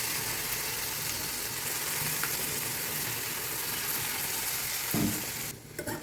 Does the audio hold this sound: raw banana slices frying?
yes